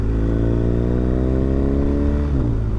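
A BMW R1250GS motorcycle on Michelin Road 6 tyres rides steadily, its loud exhaust drone holding an even pitch, with the engine note dipping briefly near the end.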